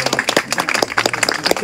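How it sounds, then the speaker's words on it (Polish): Concert hall audience applauds after a Chopin concert in Ojców, a thinner, patchy round of individual claps with distinct hand hits, moderately close. "dziękujemy za duże brawa"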